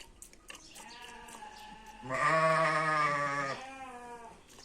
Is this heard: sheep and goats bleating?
yes